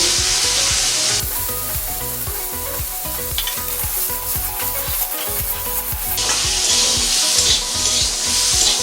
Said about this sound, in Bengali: এবারে আমি আগে থেকে সেদ্ধ করা ওলগুলো দিয়ে ভালো করে ভেজে নেব